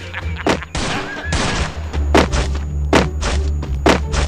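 Rapid bursts of gunfire in a shooting video game, sharp loud shots spaced irregularly over a steady low background hum, with no voices over them.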